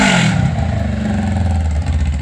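A Honda CBR500R motorcycle engine revs with the exhaust removed, a loud, raw, close roar that spikes sharply at the start and then settles into a rough, rattling idle.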